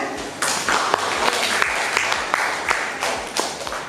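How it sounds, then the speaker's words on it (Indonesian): A class of students claps their hands for classmates during an Indonesian economics lesson, a brisk run of sharp, slightly rhythmic claps that stays loud and close throughout. "Oke, tepuk tangan."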